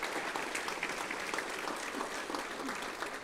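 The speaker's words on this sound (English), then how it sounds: "let's just give them all a round of applause right now" An audience at a city address applauds students, steady continuous clapping from a crowd at moderate distance, a voice faintly underneath.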